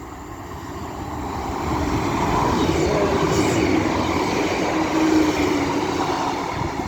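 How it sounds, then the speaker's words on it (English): A pair of Class 156 diesel multiple units passes on the line from Blackburn to Headbolt Lane, a steady loud rumble building over the first two seconds and holding through to the end, with faint wheel squeal riding on top. "The next train to be coming through will be a pair of 156s running from Blackburn to Headbolt"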